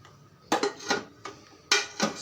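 Metal pot set down on a kitchen stove, a series of clanks and clatters: one at the start, a couple more in quick succession, then a louder knock near the end, close and moderately loud with no talk.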